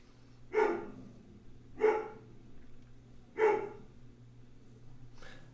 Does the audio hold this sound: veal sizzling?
no